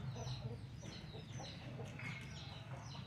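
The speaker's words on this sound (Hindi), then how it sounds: "वो इस कबूतरी पर गुरक रहा है।" A male pigeon coos faintly in soft, low repeated murmurs at a pure white female pigeon, set against a quiet background.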